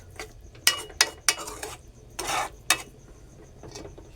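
Grated carrots are stirred and sautéed in ghee in a pan, with a soft sizzle beneath a series of sharp spoon scrapes and clanks against the metal, several distinct strokes spaced irregularly.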